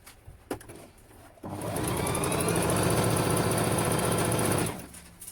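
A Juki HZL-355Z home sewing machine runs steadily for about three seconds as it forms stitches, a close, even mechanical whir with fast needle chatter that starts abruptly and stops cleanly, with quiet room sound before and after.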